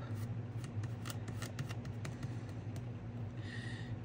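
Scissors trim fabric for a mixed media art journal page, giving a soft, steady run of close, quiet snipping and rasping cuts with no talk.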